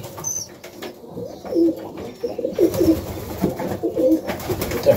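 Pigeons coo in low, throaty bursts on a cold Melbourne morning, several birds close by, with a brief flutter of wings among the repeated calls.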